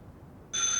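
A telephone bell starts ringing suddenly after a brief quiet pause, a bright, steady electronic ring that continues to the end.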